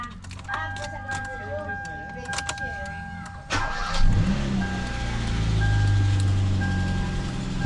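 Hyundai Elantra engine starting after sitting idle for days: chimes and clicks, then the starter cranks and the engine catches into a steady idle, with people talking nearby.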